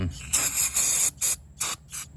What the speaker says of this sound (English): if you use carburetor cleaner on there, that should be able to dissolve whatever's in it